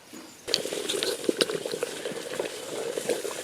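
A Kelly Kettle boils water outdoors, giving a steady close bubbling and seething roar that starts suddenly and carries on with small pops and splutters, no voices over it.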